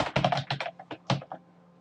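Quick, crisp keystrokes on a computer keyboard come close up in a short burst of about a dozen taps, bunched at the start and thinning out after a brief pause.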